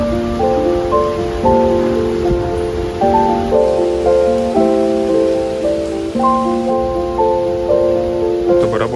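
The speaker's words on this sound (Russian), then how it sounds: "начался дождь." Steady rain in Kuala Lumpur near the Petronas Towers hisses throughout while a melody plays over it at a constant level.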